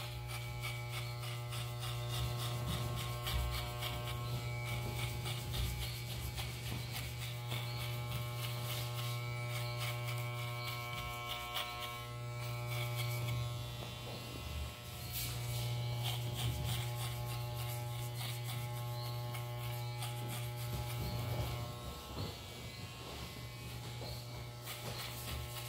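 Electric hair clipper fitted with a 1.5 guard cutting a fade at a barbershop, a steady close buzzing hum running continuously with slight dips as the blade moves through hair.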